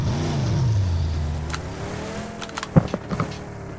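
A car in the PUBG Mobile video game drives with a steady engine hum that sinks in pitch, followed by a few brief knocks and thumps near the end, with no voices over it.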